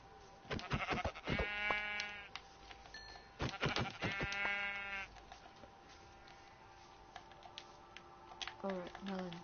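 Sheep in the Minecraft video game bleat in several separate, fairly close calls, each a wavering buzzy cry, with quieter gaps and game sounds between them.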